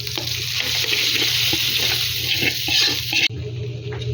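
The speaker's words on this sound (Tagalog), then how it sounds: "Kumukulog tubig." A pot of water boiling on the stove while lugaw is being made, giving a steady close-up rushing bubble and hiss that cuts off abruptly near the end.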